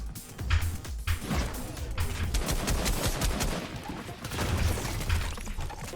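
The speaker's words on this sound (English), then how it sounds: "I got shot in the back." Dense rapid gunfire in Fortnite, with continuous bursts and overlapping shots, loud and close throughout, plus some crashing impacts.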